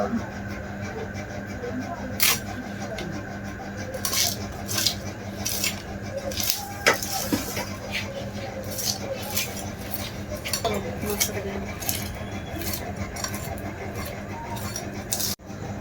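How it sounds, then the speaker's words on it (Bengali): Repeated short metallic scrapes as scales are stripped off a rohu fish in a home kitchen, irregular bursts of rasping strokes up close over a steady background hum, with some speech present. "মাছের আঁশটা ছাড়ানো শেষ।"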